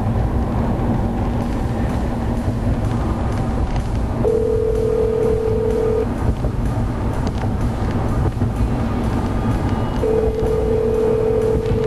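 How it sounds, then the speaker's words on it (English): A phone call rings through the Sync hands-free system of a 2011 Ford F-150 EcoBoost, two long steady ring tones separated by a pause, sounding over the constant low rumble of the truck cabin. "Phone, call Marion, boom, off she goes. Never touch the phone"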